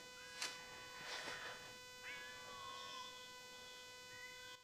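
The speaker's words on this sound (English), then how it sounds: "I hear our cat yelling at me." A few faint, drawn-out cat meows from a distance, with pauses between them and quiet outdoor background.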